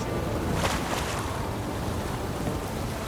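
Stormy wind and crashing waves in The Witcher 3 video game, a continuous roaring wash of surf and gusts with a brief louder swell near the start.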